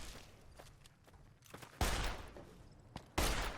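Loud gunshots boom in Fallout: New Vegas, with two sharp, heavy blasts spaced more than a second apart, each followed by a rumbling tail over quiet, faint ambience.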